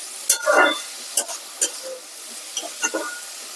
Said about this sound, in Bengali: এবার এটা একটু ভাজা ভাজা করে নিই